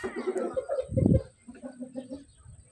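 A rooster clucks and calls in short bursts near the microphone, one louder throaty squawk standing out, with someone talking quietly in between.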